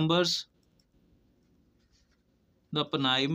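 Pen scratching during a maths lesson on prime numbers: soft, faint strokes in a pause between a teacher's spoken explanations.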